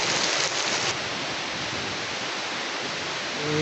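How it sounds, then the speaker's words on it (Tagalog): Heavy rain pours down in Vigan in a steady, dense roar, close and loud throughout with no pauses. "Inabot na kami ng malakas na ulan dito."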